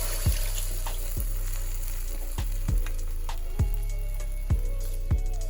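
Red pepper sautéing in a pan on medium heat, a soft steady sizzle running throughout with several sharp knocks of a utensil against the pan at regular intervals.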